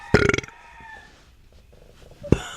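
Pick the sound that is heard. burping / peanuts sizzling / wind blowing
burping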